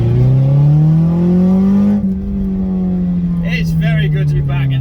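A car engine drones loudly at a steady pitch, then eases slightly, with a voice speaking over it toward the end; a slow, stupidly loud Alfa Romeo Twin Spark car.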